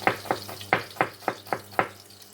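Sliced onions stir-fry in a hot pan, a spatula scraping through them in quick, regular strokes about four times a second over a soft sizzle, close and fairly quiet.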